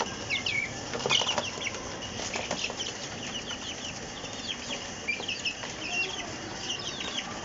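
Chicks about 29 days old, active and healthy, cluck and peep steadily while eating boiled rice, with occasional wing flaps and scattered close chirps over a constant farm background.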